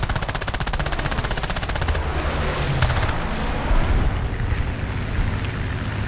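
Aircraft guns fire in War Thunder air arcade from a Nimrod Mk II, a rapid, steady machine-gun rattle for about two seconds, followed by a dense roaring rumble of engine and battle noise.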